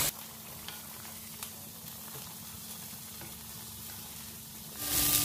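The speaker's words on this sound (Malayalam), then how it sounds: "ഇത് നമ്മുടെ ചിക്കന് ഇടയ്ക്ക് തന്നെ ഇളക്കി കൊടുക്കുക" Chicken with onions sizzling in a pan for a Kerala-style chicken curry, a steady soft frying hiss with faint occasional stirring, close and without talking.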